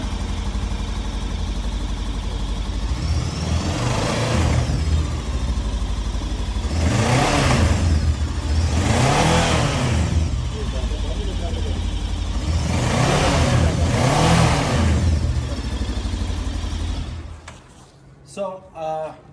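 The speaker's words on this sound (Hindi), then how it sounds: "तो चलिए अब इसकी साउंड चेक करते हैं।" A Colove 500X Adventure motorcycle engine idles and then revs four times in throaty surges, each rising and falling back, before cutting off near the end.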